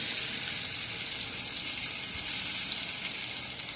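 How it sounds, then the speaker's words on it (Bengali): Ground onion and chilli paste sizzles in hot oil, a loud, steady, close hiss of frying that holds without pause. "এবারে আমি তেলের মধ্যে এখানে পেঁয়াজ লঙ্কা এগুলো সব বেটে নিয়েছি, এগুলো এর মধ্যে ছেড়ে দিলাম।"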